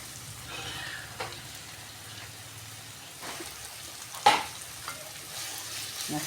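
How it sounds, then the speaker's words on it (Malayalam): Onions sizzle and fry quietly in a pan with butter, with a few sharp clinks of a spoon stirring against the metal; no talking. "നമ്മൾ വറുത്ത് കോരി വെച്ചേക്കുന്നതിന് കുറച്ച് സവാള ഇട്ട് കൊടുക്കാം"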